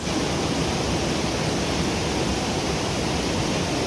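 Chaulbhaja waterfall in Mayurbhanj pours in a steady, dense roar of rushing water, loud and unbroken throughout with no voices.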